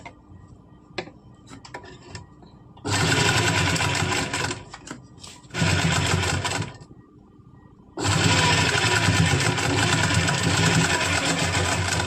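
Sewing machine stitching a collar kurti, running in three loud bursts of fast rattling stitches separated by short quiet pauses filled with faint handling clicks.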